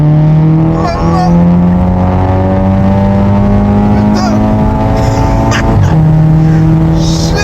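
A Volkswagen Golf 7 GTI in a unique, very loud configuration is driven hard, its engine droning loud and steady from inside the car as the revs rise and shift, while people talk over it.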